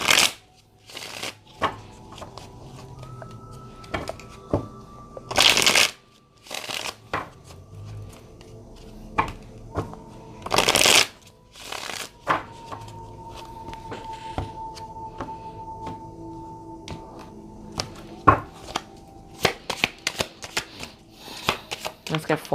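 Tarot cards are shuffled close up in repeated bursts of riffling and sliding, with brief pauses and soft taps in between, and a person talks during the shuffling.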